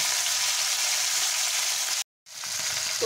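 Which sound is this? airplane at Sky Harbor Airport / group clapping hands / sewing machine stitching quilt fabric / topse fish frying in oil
topse fish frying in oil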